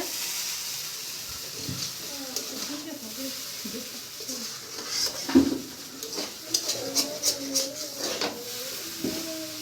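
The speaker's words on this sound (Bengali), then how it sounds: "চাউমিনটা দিয়ে দিয়েছে, চাউমিন দিয়ে নাড়ছে।" Chow mein is stir-fried with egg, onion, potato and chopped chilli, giving a soft sizzle with scattered scraping and clinks of a utensil in the pan, while a voice talks over the cooking.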